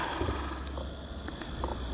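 Cicadas sing in the summer heat at a sunny campsite, a steady, dense, high-pitched drone that holds unbroken throughout, with faint scattered clicks and light movement underneath.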